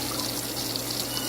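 Water is poured by hand over a Persian kitten during a bath, making a continuous close splashing trickle at a steady level with no pauses or speech.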